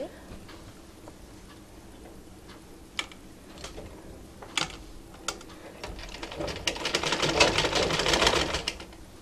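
Sewing machine stitching the placket of a baby frock, starting with scattered ticks and clicks, then building into a denser, louder running stitch near the end, with no talk.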